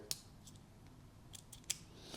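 An EDC pen's bolt action mechanism gives a few small, crisp clicks, quiet and close, spaced irregularly over a faint background.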